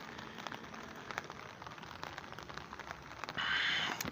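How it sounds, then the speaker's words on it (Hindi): Light rain falls in Taxila, a soft steady patter on surfaces, faint and close, with a brief louder hiss of rain near the end and no voices. "संगियो बारिश लगी ने ज़बरदस्त किस्म की"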